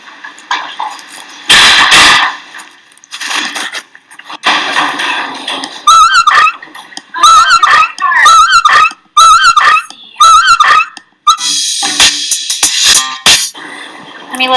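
A dog injured by a car vocalizes in rapid bursts of high whining yelps and barks, with low growls and harsh noisy outbursts between them, close and loud, with gaps of near silence.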